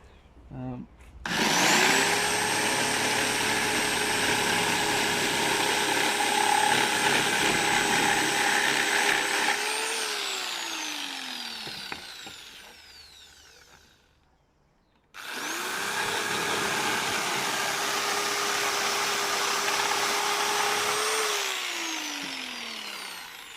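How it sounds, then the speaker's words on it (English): A jigsaw cuts wood for a DIY dining table in two long loud runs, each one whining up to a steady buzzing pitch and then winding down, with a short pause between them. "fortunately I have a jigsaw, so I can make quick work of it"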